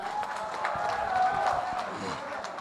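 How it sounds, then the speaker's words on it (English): A hall audience at a school lamp lighting and oath taking ceremony breaks into sustained applause mixed with crowd noise and a few cheers, steady and fairly full throughout. "big round of applause, come on"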